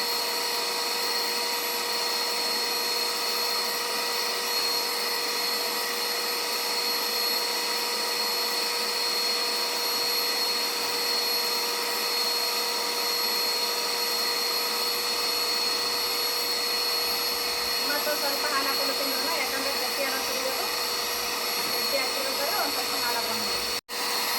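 An electric mixer whips cream for cupcakes with a steady, loud, high whirring drone that holds unchanged for over twenty seconds and then cuts off abruptly at the very end.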